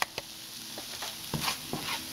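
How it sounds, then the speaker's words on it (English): Spices stirred and sizzling in a hot pan while making Sate Padang coconut beef skewers, with scraping spoon strokes over a soft, steady frying hiss at close range and no talk. "you're just going to mix this and let it cook for another minute or so, just so the spices kind of wake up a bit in the pan against the heat"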